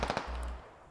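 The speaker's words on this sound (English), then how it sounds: "Beasley finally puts a bullet, a second bullet in Asatsu." Gunfire from a rifle in the military shooter game Squad: a quick burst of sharp reports in the first fifth of a second, followed by a lingering low rumble that fades away.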